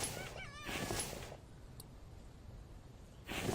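Chicken in the survival video game The Infected, clucking in short warbling bursts near the start, falling quiet, then a brief cluck again at the end.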